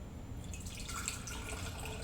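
Warm water pours steadily from a jar into a bowl to start bao dough for cha siu pork buns, a continuous close splashing trickle with no talk.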